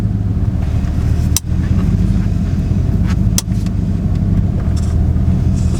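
A Ford Mustang Foxbody engine idles steadily with a deep, close rumble, broken by two short sharp clicks, and no talk.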